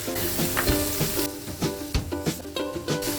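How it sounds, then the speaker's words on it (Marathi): Eight tablespoons of garlic sizzle and fry in plenty of oil for homemade Schezwan sauce, a steady close crackle with occasional spoon clinks and stirring. "आठ टेबलस्पून लसूण घेतली आहे चांगली फ्राय करून घ्यायची आहे"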